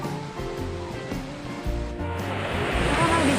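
Water splashing from a hot spring spout on Mount Gede Pangrango, a steady rushing pour that grows louder and brighter toward the end, with faint low rumbling underneath.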